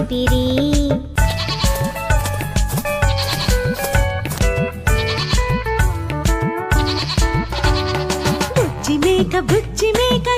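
A cartoonish goat bleats repeatedly in a Telugu children's rhyme. Wavering, bouncy bleats sit over a cheerful musical backing and come in quick succession throughout.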